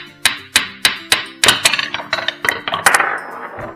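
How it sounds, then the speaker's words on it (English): A plastic toddler's toy hammer pounds a green ball down into a block tower, a run of about a dozen sharp, close knocks, evenly spaced at first then quicker, ending with a rattling clatter as the ball rolls through. "I'm going to hammer this green ball first and see how the ball goes inside all the blocks and comes out of the tower."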